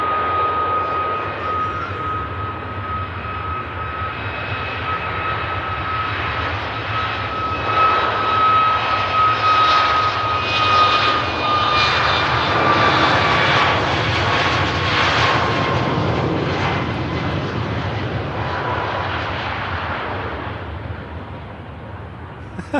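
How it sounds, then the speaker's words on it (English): A jet aircraft's engines spool up to full power, a loud rising roar and whine that swells to a thundering peak, then slowly fades as the plane moves off, heard from nearby at a plane-spotting site. "Full engine spool up sound was great."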